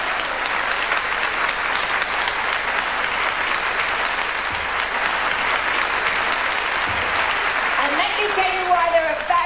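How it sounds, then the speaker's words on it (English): A theatre audience at a 1992 London stand-up comedy show applauds the house orchestra with sustained, full clapping throughout, and a voice begins talking near the end. "we should applaud them right now because they're a fabulous,"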